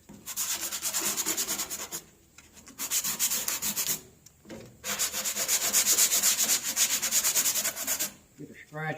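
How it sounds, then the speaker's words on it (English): Sandpaper at 80 grit scrubbing back and forth over a low spot on a 1970 Cougar's metal body panel, loud raspy strokes in steady bursts with brief pauses between passes, close up. "We'll take our 80 grit, scuff her up really good."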